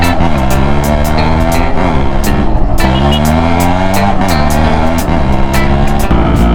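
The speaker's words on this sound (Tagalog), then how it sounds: "kita mo nag-i-skid yung gulong, kunti pa lang yung preno ko." A 1998 Suzuki X4 125 two-stroke motorcycle engine revs loud and close, its pitch climbing and dropping as the rear tire skids under light braking, with no voices.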